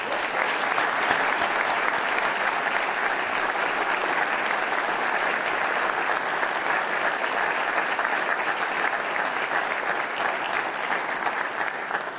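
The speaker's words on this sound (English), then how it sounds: "Please give Chris a big round of applause." Long, sustained applause from an audience at an event honoring wounded military veterans, loud and steady from start to finish with faint crowd noise mixed in.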